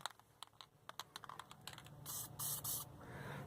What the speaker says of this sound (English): I've got some zinc spray. What I'll do is I'm going to spray that on